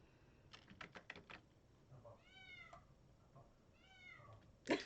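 A house cat meows loudly twice in the background, each a drawn-out wavering call, after a quick run of computer keyboard typing clicks and before a sharp click at the end.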